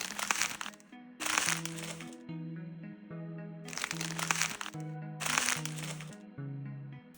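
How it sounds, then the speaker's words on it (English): A paper bag is crumpled to make an ice-forming sound effect, giving crinkly, crackling bursts that come and go in bursts over a soft sustained tonal bed. "I used the paper bag crumbling as a base for the ice forming and breaking sound"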